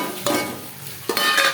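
Spices fried with ginger-garlic paste and stirred in a pan, a close sizzle with two scraping stirs of the spoon, no voices.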